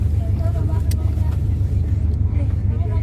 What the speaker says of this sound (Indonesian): Oke, bis sudah jalan ya guys.